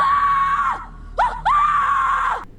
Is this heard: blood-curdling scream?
yes